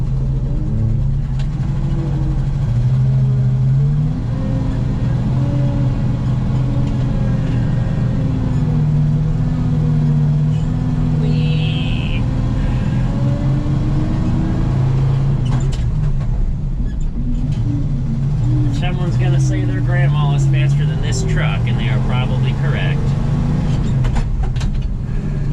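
A grain truck carrying a load of beans pulls up a small hill on a cold morning, its engine loud and steady with a deep drone that shifts in pitch partway through, alone and close up.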